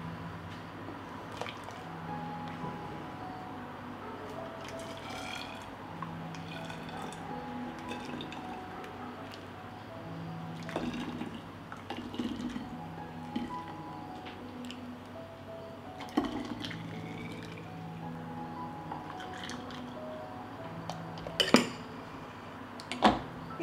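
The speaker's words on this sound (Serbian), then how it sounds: "I sad ćemo sipati sok u flaše." Homemade juice pours into oven-sterilised glass bottles in a kitchen, a soft steady trickle with occasional light clinks of glass and utensils, quiet and close.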